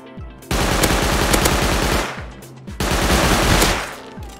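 Gunfire in the video game Rust, two loud sustained bursts of rapid automatic shots separated by a short pause, close and dominant with no talking.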